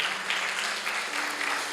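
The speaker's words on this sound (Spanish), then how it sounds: "Dale un fuerte aplauso a Dios." Church congregation gives a soft round of applause at a worship service, scattered clapping heard faintly at a distance with a low steady hum beneath.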